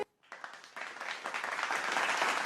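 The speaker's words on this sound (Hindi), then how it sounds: "और मोहम्मद ताहिर साहब की हौसला अफजाई के लिए आप सब जो यहाँ बैठे हैं कम से कम वो तो ज़ोरदार तालियां बजाएं।" Applause from an audience, starting after a brief silence and building into steady, dense clapping that fills the room.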